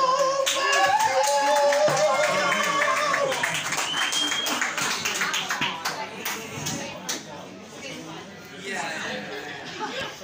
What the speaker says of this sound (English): So, give him a round of applause for Metal Matthew!